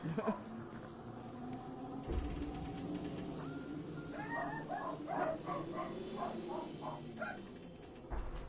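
A small dog yips and barks in a quick series of short, high cries, with a low murmur of background sound beneath.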